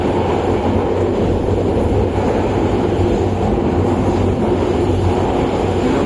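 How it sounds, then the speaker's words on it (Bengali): A passenger train runs near Sitakunda among hills on the Dhaka to Chattogram line. It makes a loud, constant rumble with low wheel-and-track drone throughout, heard from on board, with no talking. "চলছে পাহাড়, ট্রেন চলছে তার আপন গন্তব্যে।"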